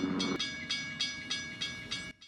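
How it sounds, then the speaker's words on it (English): A train in Back to the Future Part III rolls past with a rhythmic clickety-clack, five or six evenly spaced bursts of wheel rumble over a steady high tone, then cuts off abruptly at the end. "Oh, there's a train coming."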